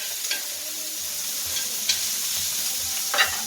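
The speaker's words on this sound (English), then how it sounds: "Move around those shallots, get those shallots, really, and get all those flavors going." Shallots sautéing in a pan with a steady sizzling hiss, broken by a few sharp scraping stirs of a utensil, close and alone.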